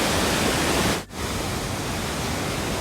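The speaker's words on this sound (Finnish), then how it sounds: "Tuostahan se tippuu se vesi alas." A waterfall plunges into a gorge in Norway, a loud, dense, unbroken roar of rushing water heard up close, with a brief dip in the middle before the steady wash returns.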